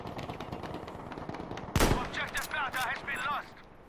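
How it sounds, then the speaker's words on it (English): Machine gun fire in the Battlefield V video game: a steady rattle of automatic shots with a loud close burst partway through, followed by further gunfire and game effects. "Machine gun, machine gun."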